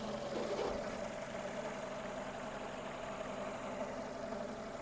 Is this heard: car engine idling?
yes